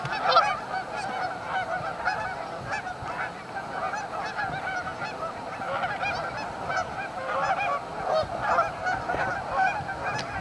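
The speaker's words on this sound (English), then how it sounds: "Lots of geese in the lake today." A flock of Canada geese honking continuously on a lake in Winnipeg during migration, over steady outdoor background noise, many overlapping calls near and far, with no talking.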